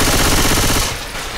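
Rapid automatic gunfire from the zombie shooter game Left 4 Dead 2 rattles loudly in a dense burst, then cuts off and leaves a short echoing tail.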